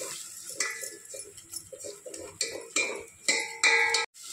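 Spice masala with chilli powder being stirred and fried in oil in a pan, a series of scraping, clinking utensil strokes against the metal at a steady pace, close and moderately loud, with a soft sizzle beneath.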